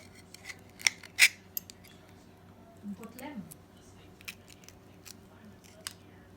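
A knife works open a microwaved oyster, with a few sharp scraping clicks early on and a brief soft grinding rub midway, all faint and close against a quiet background.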